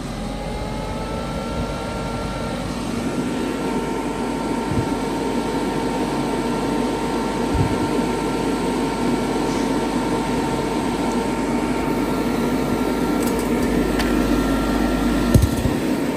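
A refrigerant recovery machine runs in a steady, close mechanical drone with a constant hum and whirring noise, holding an even level throughout with a few faint clicks near the end.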